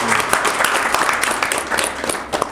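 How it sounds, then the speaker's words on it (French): An audience at a Burkina Faso event for SIMBCOIN claps in a short, brisk burst of dense applause with scattered sharp hand claps standing out, loud and close throughout. "C'est louable, on peut l'applaudir."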